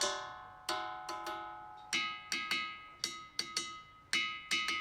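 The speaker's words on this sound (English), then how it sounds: "These are called the ringing rocks of Montana" Ringing rocks of Montana struck with a hammer, a dozen or so sharp metallic clanks in an irregular rhythm, each one bell-like and ringing out briefly before the next strike, close and clear with no talking.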